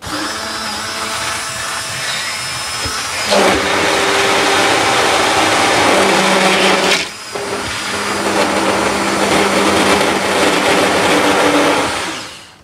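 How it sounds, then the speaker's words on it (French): An electric mixer whirs through chocolate tart filling, a loud steady motorized drone that starts, briefly cuts out near the middle, then resumes before winding down at the end; no one speaks. "Puis, mixer ou mélanger selon ce que vous préférez."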